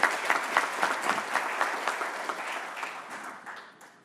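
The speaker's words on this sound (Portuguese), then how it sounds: "uma salva de palmas" Audience at a Minas Gerais business awards ceremony gives a round of applause, a loud crowd of clapping with a rhythmic pulse that gradually fades out.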